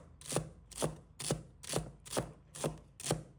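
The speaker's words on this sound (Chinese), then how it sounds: "把它切成小粒。" A knife chops celery into small pieces on a cutting board, seven crisp, evenly spaced thuds close by and quiet, with no talking.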